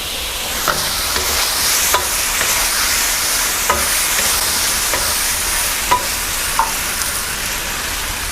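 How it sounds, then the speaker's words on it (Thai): Shrimp tossed and stirred through hot oil in a pan with fried garlic, giving a steady close sizzle broken by sharp scraping clinks of the utensil against the metal at irregular intervals. "แล้วก็ใส่กุ้งลงไป คลุกเคล้าให้เข้ากันครับ"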